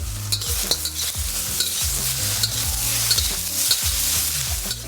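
Continuous sizzling as beef and vegetables stir-fry for Mongolian beef in a hot pan, with repeated scraping stirs of a spatula every half second or so; no voices.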